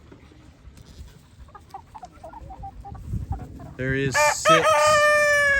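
Backyard chickens and several roosters, including a black and white one, make soft scattered clucks, then a loud, close rooster crow rings out near the end. A faint voice speaks briefly.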